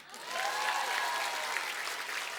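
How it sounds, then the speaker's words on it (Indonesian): A television comedy studio audience breaks into applause, a full, continuous patter of clapping that rises quickly and holds steady, with a faint tonal sound drifting through it. "Tepuk tangan dulu dong."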